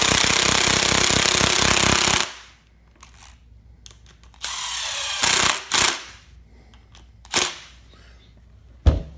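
Impact tool fastening a nut on a Losi 5ive T radio-controlled truck during a build: a loud continuous burst of rattling hammering for about two seconds, followed by quieter clicks, shuffles and a few short sharp bursts.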